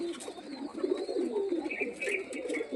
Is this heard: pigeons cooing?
yes